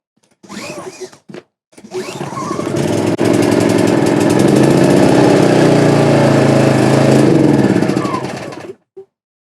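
An MXR3500 portable generator is pull-started: a few brief rattling cranks, then the engine catches and runs loud and close with a steady droning roar for several seconds before cutting off.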